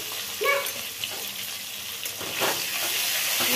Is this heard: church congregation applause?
no